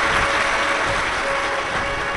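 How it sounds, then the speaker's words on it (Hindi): Audience applause at a Hindu Shiv Mahapuran religious discourse in Prayagraj, a dense, steady wash of many hands clapping throughout, fairly loud with no voices over it. "एक बार सभी यजमान परिवार के लिए जोरदार ताली बजाकर स्वागत वंदन अभिनंदन।"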